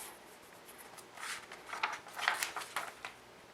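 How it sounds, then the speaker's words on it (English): Pen writing in red ink in a bullet journal, faint close scratchy strokes in quick short bursts that build to a flurry midway, with no voices. "I'm going to write it in red at the end"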